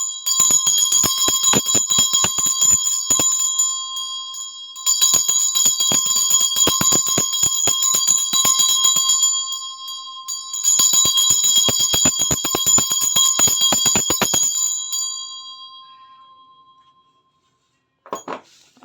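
A small handheld bell rung repeatedly in three long bright ringing bursts, each trailing off, loud and close with no talking.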